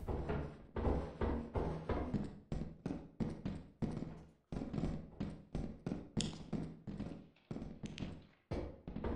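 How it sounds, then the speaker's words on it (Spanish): Footsteps in the video game Lethal Company, a steady run of quiet, crisp thudding steps with brief pauses, close by and heard alone. "Escucho pasos."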